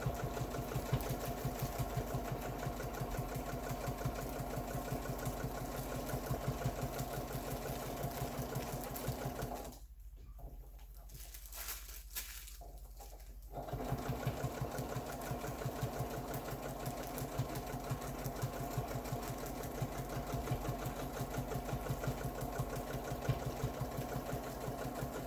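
A domestic sewing machine runs steadily for pantograph machine quilting, its close, fast mechanical whir and needle clatter continuing throughout apart from a pause of a few seconds midway before resuming.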